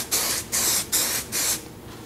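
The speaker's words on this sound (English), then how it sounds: "Spray it on, wipe it back, and maybe apply a second coat as needed." Smooth-On universal mold release sprays onto a mold in four short, steady hissing bursts with brief pauses between them, close and clear.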